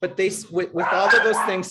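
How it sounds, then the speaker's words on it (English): A pet dog barks and yelps in a few short bursts close by at home, with someone speaking steadily over and around the noise. "I apologize for my dog"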